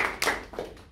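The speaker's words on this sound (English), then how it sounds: "Great round of applause" Brief scattered claps from a small audience at a Toastmasters club meeting, a few sharp hand strikes over under a second, fairly quiet.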